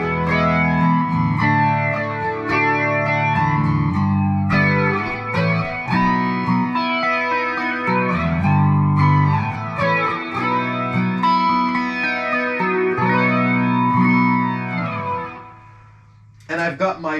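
An electric guitar through a Boss Katana Artist MkII head and Waza cabinet plays chords and notes with a sweeping, swirling flanger effect plus delay and reverb, loud and continuous, before fading near the end with a brief strum.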